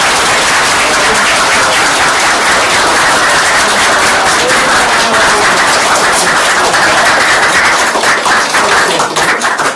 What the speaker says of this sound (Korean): 동지 여러분께 서로 축하의 박수를 보냈으면 좋겠습니다